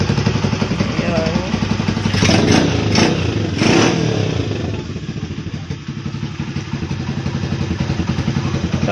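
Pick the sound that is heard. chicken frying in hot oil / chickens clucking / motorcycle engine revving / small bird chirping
motorcycle engine revving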